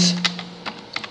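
Several quick keystrokes on a computer keyboard, sharp close clicks in an uneven rhythm over a brief moment with a faint background hum.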